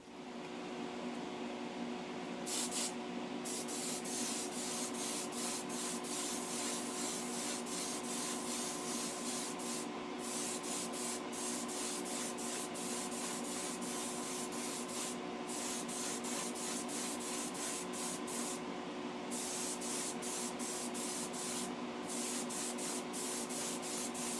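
Spray paint hisses in a long, steady stream for a light dusting over a customised Hot Wheels vintage Baja Beetle toy car, with brief gaps and no talk.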